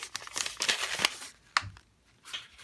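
A small paper mail envelope is torn and crinkled open close up, with bursts of rustling and ripping and a sharper tear midway, then fading rustle. No one talks.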